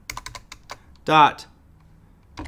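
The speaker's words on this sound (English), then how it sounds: "if you want to, you just go in here and type in .pdf" Typing on a computer keyboard, a quick run of separate clicks at the start and a few more at the end, with a short voiced sound in between.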